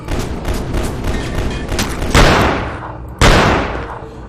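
Sniper rifle fire from an enemy in the video game E.Y.E., heard as sharp, loud blasts in quick succession with two heavy booming shots standing out toward the end, each trailing into a rumbling decay.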